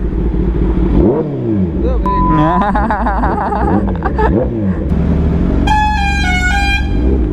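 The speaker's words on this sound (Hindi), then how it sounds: "अरे भाई हॉर्न से डरा दिया उसने" A vehicle horn honks on a busy Indian road during a motorcycle ride, with engine revving and traffic around it. Short horn blasts come in the middle, then a long, loud, sustained honk near the end.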